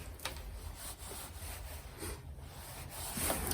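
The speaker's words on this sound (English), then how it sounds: "mix in some silver sand, some very fine sand, so to provide drainage" Silver sand being mixed by hand into peat-free compost for seed sowing: a continuous soft, gritty rubbing and scraping, close but fairly quiet, with a few slightly louder scuffs.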